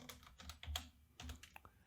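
Quiet, close typing on a computer keyboard while entering Java code, with a few quick bursts of key clicks separated by short pauses.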